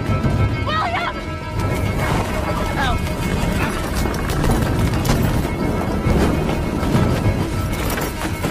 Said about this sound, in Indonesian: Setelah mereka pergi, William mencoba menyelamatkan kuda-kuda yang masih berada di dalam gudang.